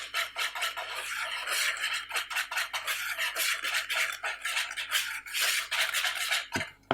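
Gingerbread batter being mixed in a bowl with a utensil, a steady series of quick scraping and rubbing strokes that continue close up through the whole stretch, with no talking.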